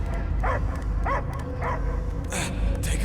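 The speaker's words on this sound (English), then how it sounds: "I hear only barking." Cosmo the space dog barking in the Marvel's Guardians of the Galaxy video game, four or five distinct yipping barks spaced across the moment over a low rumbling backdrop.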